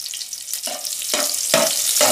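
Onion and garlic sauté in oil in a kadhai over a wood fire for Konkani prawn curry, a close, bright sizzle broken by three or four stirring scrapes.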